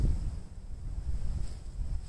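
Wind gusts roar against the microphone on an open golf course in low, uneven rumbles, rising and falling continuously with no voices.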